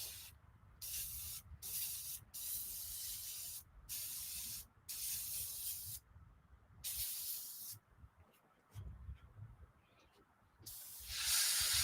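Paint spraying from an open nozzle onto a scale model makes repeated hissing bursts with brief silent gaps, then a louder, steadier spray at the end.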